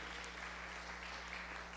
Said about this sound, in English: let's give a round of applause for these partners